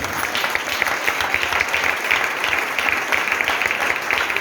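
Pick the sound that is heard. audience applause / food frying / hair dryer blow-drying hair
audience applause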